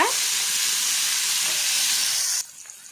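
Chopped tomatoes fry in a pan for Tulu-style basale sukka, a loud, steady sizzling hiss that holds close and even, then cuts away abruptly to near silence at the end.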